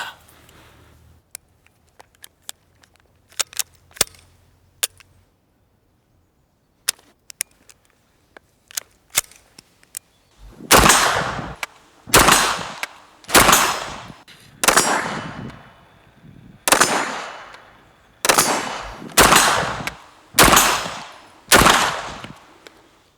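A string of sharp, loud gunshots from a suppressed short-barrel Swiss APC9K submachine gun, fired one at a time in a steady rhythm, each with a short ringing tail, after quieter clicks and handling noises.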